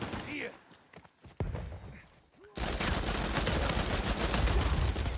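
Video game gunfire, first a few sparse shots, then a sudden dense burst of rapid automatic fire that keeps going loudly, with a voice talking briefly near the start.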